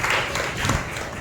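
A congregation claps during an evening church worship service for the church's anniversary, with a dense, steady patter of many hands filling a brief moment.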